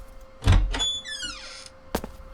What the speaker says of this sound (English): Oh look, we closed the door.